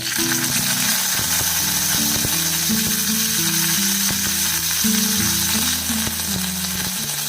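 Cumin, fennel seeds and curry leaves sizzle and crackle loudly in hot oil, with steady frying hiss and occasional stirring clicks, no voices.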